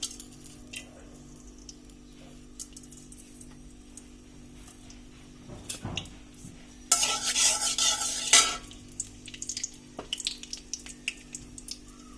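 Whole garam masala spices dropped into hot oil: quiet scraping and clinks at first, then a sudden loud burst of sizzling for about two seconds that settles back into faint crackling and stirring.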